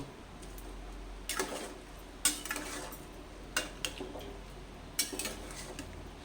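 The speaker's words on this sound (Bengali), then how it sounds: "দিয়ে এবার ভালো করে একটু নাড়াচাড়া করে নেব" A spoon stirring white potato curry in a pot, giving several sharp metallic clinks and scrapes against the pot at irregular intervals over a low, quiet background.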